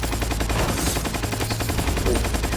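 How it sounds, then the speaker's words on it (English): Rapid automatic gunfire in Metal Gear Solid 3, a dense continuous rattle of shots, loud and steady throughout the short burst with no talking. "Those bullets don't fire very straight."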